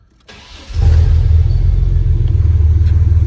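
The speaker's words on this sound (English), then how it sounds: "All right, warm start, no muffler." A Chevrolet S10 Blazer with its muffler deleted starts while already warm: a short crank, then at once a loud, deep, raw exhaust rumble that settles into a steady, throbbing idle.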